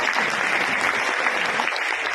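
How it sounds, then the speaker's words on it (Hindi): Sustained audience applause at an RCM business gathering, dense steady clapping from a crowd filling the whole stretch, loud and even throughout with no voices over it. "ताली शानदार वाली बजा दें एक बार उनके सम्मान में"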